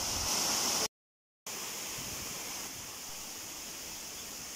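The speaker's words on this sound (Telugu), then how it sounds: "ఇక్కడ జలపాతం ప్రవహిస్తుంది" A waterfall pours steadily in the wild, a dense, even rush of water sounding close and fairly loud, broken once by a brief cut to silence before the same continuous roar resumes.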